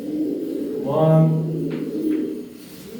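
Paired breeding pigeons in a loft coo in soft, low, rolling calls, close by, while someone talks over them.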